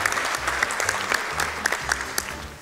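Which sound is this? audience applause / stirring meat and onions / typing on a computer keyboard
audience applause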